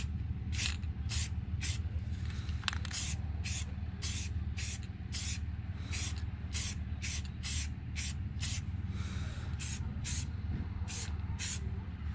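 Short bursts of spray paint hit a Jeep JKU bumper, about fifteen hissing sprays in a loose even rhythm over a low background rumble, close and clear, with no talking.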